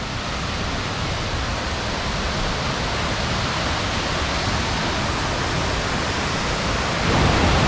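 A small waterfall among slippery rocks at a scenic mountain stop, a steady dense roar of falling water filling the scene without letup, loud and close, with no voices.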